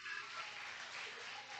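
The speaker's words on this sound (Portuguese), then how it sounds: "Vamos aplaudir o nome do Senhor" A church congregation applauds during a service, a faint, steady wash of clapping from across the room with no distinct individual claps standing out.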